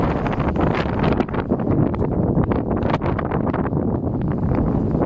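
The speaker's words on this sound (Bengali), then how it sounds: "বাতাস আসতেছে, বাতাসটা ফিল অন্যরকম" Strong, steady wind buffets the microphone at Jazan sea beach in Saudi Arabia, a loud continuous roar with rushing gusts and no speech.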